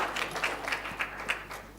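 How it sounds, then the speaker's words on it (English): Scattered audience applause at a live panel discussion, a smattering of claps from a modest crowd, fairly soft and brief. "Please give him a round of applause."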